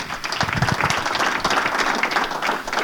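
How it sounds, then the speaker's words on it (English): An audience at a Superserien 2015 press conference gives Jonas dense, continuous applause that stays steady and fairly loud throughout, with many hands clapping at once. "Then we switch to English and an applaud for Jonas"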